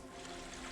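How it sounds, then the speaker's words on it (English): A garden waterfall pours in a steady, dense wash of rushing water, faint and even throughout with no voices. "coming out in this lovely garden scene with its waterfall"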